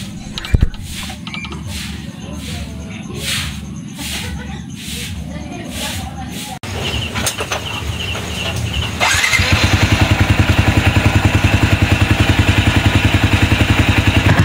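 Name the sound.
motorcycle engine running after valve adjustment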